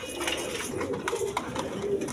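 Pigeons coo softly over low background murmur, a few short throaty calls overlapping within a brief stretch, moderately close but fairly quiet.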